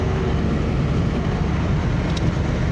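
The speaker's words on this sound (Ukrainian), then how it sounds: "машина гуде сильно" Inside a moving car on the road, a loud, steady broadband hum and rumble of driving fills the cabin, continuous and even throughout with no speech.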